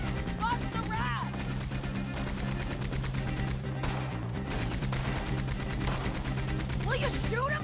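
Gunshots crack during a Red Dead Redemption II shootout, sharp repeated reports layered over a steady music bed and shouted dialogue, with bursts of firing scattered across the scene.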